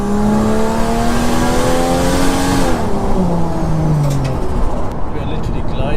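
A drift car engine revs loudly up close, its pitch climbing and then dropping as the driver shifts, a steady roar throughout.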